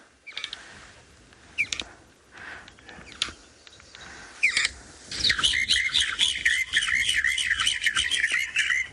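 A recording of a helmet-shrike call plays on a South African afternoon safari, starting with scattered clicks and squawks, then breaking into a bouncy, rapid chattering chorus over the final seconds.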